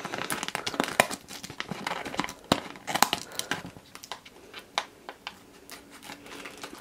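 Scissors cut open a GoPro lens cover package as plastic crinkles and crackles close up in quick, irregular snips and rustles that grow sparser toward the end.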